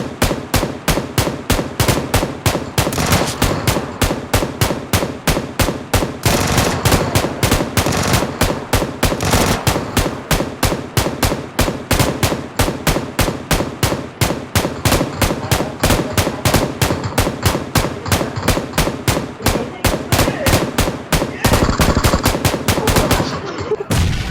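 Automatic weapon fire in PUBG Lite, a long string of sharp, evenly spaced shots in rapid rhythm, loud and close, running nearly the whole time with no talk.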